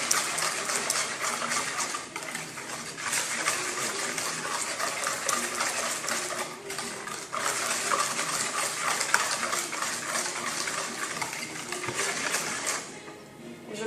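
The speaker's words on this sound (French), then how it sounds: "Je place maintenant les 2 verres d'huile dans notre bol. Et de la même façon, on remue." Oil being stirred into chocolate birthday cake batter in a bowl, a steady, close scraping and clinking of utensil against the bowl that runs continuously with brief pauses.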